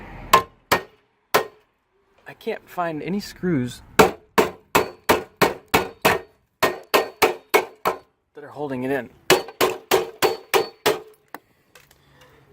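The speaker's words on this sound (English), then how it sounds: "So I'm gonna hit it with a hammer." A hammer strikes a metal kitchen vent again and again, sharp ringing clangs in quick irregular bursts, loud and close, with someone speaking briefly in between.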